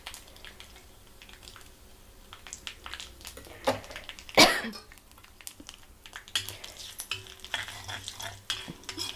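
Curry leaves and dried red chillies frying in hot oil, sizzling and popping with a loud spatter burst midway, scraped and stirred with a utensil against the pan, while a voice talks briefly.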